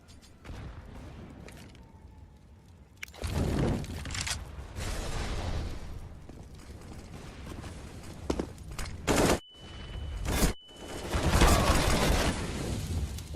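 M4 rifle fire in a CS:GO pro match between Astralis and Fnatic, with bursts of rapid automatic shots over steady game noise and sharp single cracks, loud and close throughout.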